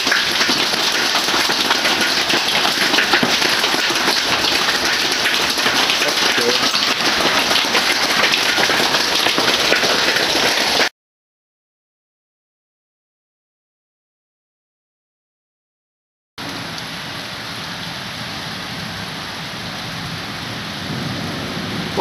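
Dense, loud hail drums relentlessly on the steel of a train, a roaring hiss of impacts that suddenly cuts to silence, then resumes somewhat softer.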